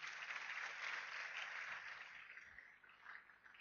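Audience applause for Mr. Sulana from Bandung at a seminar: a steady, dense wash of clapping from a crowd that holds throughout, then thins slightly toward the end.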